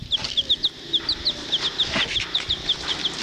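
Small chicks or chickens give a steady run of high, short peeping calls, about a dozen evenly spaced cheeps over low background rustle, close and moderately loud.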